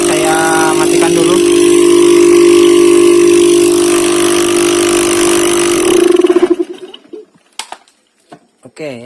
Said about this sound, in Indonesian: jadi mesin kompresor sudah aktif